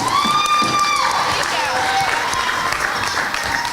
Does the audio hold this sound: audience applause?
yes